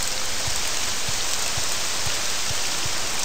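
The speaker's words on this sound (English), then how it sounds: "Oh great, it's raining." Steady rainfall in the video game Morrowind, a dense, even hiss of rain on surfaces with faint low thumps recurring at regular intervals, no voices.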